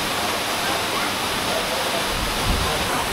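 A waterfall roars in a steady, unbroken wash of broadband noise, loud and close, with a deeper rumble swelling briefly toward the end.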